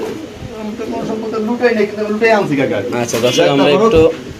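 Red Lahori pigeons cooing close by, soft throaty calls running beneath people talking over them.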